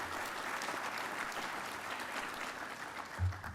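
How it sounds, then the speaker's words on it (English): Audience applause at an economic development summit, steady clapping from a crowd filling the room at moderate level. "that deserves an applause"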